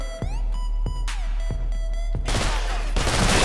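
A gunner in GARAGE: Bad Trip fires a machine gun at a military base. Sharp, evenly spaced shots crack over a droning tone, then give way to a dense, loud burst of continuous fire.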